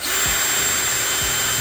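A power drill fitted with a new bit runs at full speed into a broken door handle on a Fox Body Mustang, a loud steady whine close up with faint rhythmic grinding pulses.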